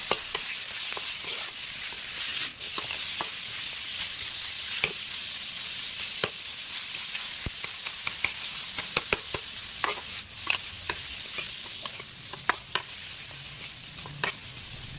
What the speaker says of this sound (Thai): เราจะผัดให้ทุกอย่างมีความหอมก่อนนะครับ